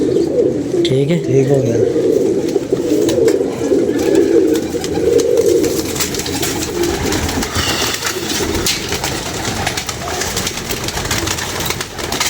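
Pigeons coo steadily up close in a loft, their low murmuring carrying on throughout, while someone speaks briefly over them.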